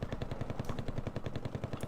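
Automatic gunfire in a war strategy video game, a steady rapid stream of machine-gun bursts rattling at a fast even rhythm, moderately loud with no talking.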